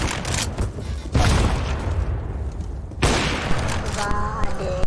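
Grenade blasts in the game CS:GO: two sharp, loud broadband booms about two seconds apart, each followed by a rumbling tail, with scattered gunfire-like clatter and faint electronic tones toward the end.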